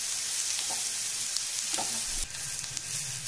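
Onions fry and sizzle steadily in a pan on the gas while being stirred for a soya chunks curry, a dense hiss with a few soft scrapes and clinks, close and continuous with no talking.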